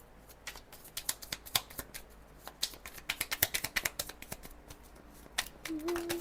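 Tarot cards being shuffled and drawn by hand, a run of crisp papery flicks and taps in uneven bursts, close and fairly quiet, with a brief low hum near the end.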